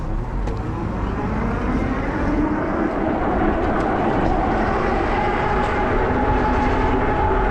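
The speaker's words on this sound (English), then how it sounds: "the train ahead of us just heading towards London Bridge or Victoria" A train rumbles past on the tracks near East Croydon, London, a steady loud roar with low-pitched rolling noise and faint squeals, no voices.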